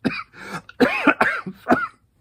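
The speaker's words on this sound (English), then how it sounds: "kept on with her hoarse cough" A woman coughs hoarsely several times in a row, each bark rough and throaty, up close and then trailing off into silence.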